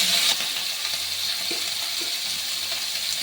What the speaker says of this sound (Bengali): কাটা পেঁয়াজগুলো আর এবার দিয়ে দেবো ক্যাপসিকামটা আর এগুলো আমি একটু লাল লাল করে ভেজে নেব